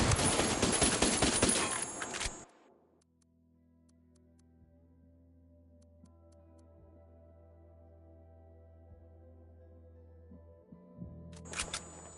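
Ghost Recon Wildlands gunfire opens as a loud, dense burst of rapid shots for about two seconds. A low hum follows, then another short burst of fire at the end.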